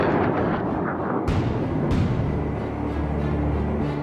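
Heavy cannon fire from an aircraft in a combat flight video game, aimed at a turning enemy: two sharp booming shots over a loud, constant engine drone.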